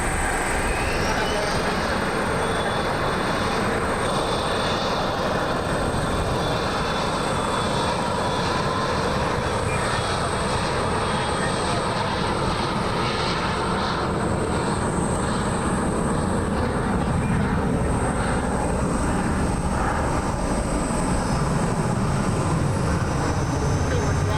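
A Spirit Airlines jet climbs away on takeoff at Columbus John Glenn International Airport, a loud continuous engine roar with a broad rumble and high whine holding steady throughout, heard at a distance outdoors.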